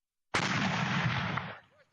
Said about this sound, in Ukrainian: Ось так стріляє «Нона» – самохідний комплекс ще радянського зразка, розрахований на мінометні боєприпаси